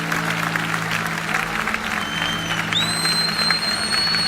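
A church congregation claps together in steady, dense applause that stays loud throughout, with a high sustained tone rising near the end.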